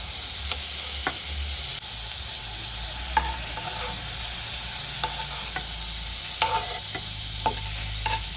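Prawns frying in a pan for a biryani, a steady close sizzle running throughout with scattered stirring scrapes and ticks, no voices.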